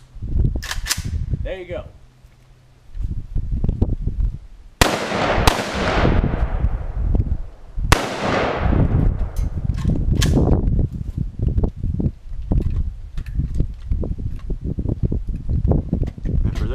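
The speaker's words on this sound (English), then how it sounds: "We got 3 rounds of the full metal jackets. And for the AK-47 operators out there," AK-47 rifle firing full metal jacket rounds outdoors in a backyard: three loud, sharp reports spaced a few seconds apart, each ringing out with a short echo, with someone talking briefly between the shots.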